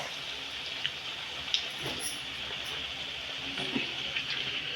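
Food frying in oil, turned on both sides, gives a steady crackling hiss throughout with a few brief louder pops, fairly close.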